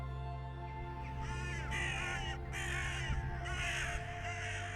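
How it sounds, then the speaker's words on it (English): A common carrion crow cawing, a run of harsh, hoarse calls repeated in an even rhythm, close and clear over a steady low hum. "This is a common carrion crow."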